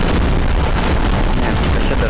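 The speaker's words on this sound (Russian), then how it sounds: "одна из самых мощных бомб в этой игре" A powerful non-nuclear bomb detonating in Garry's Mod, a dense, loud, sustained roaring blast with rumbling crackle and no clear pauses.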